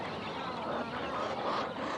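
A freckled duck calls in a steady, dense burst of low nasal quacking sounds, close and continuous for the whole short stretch.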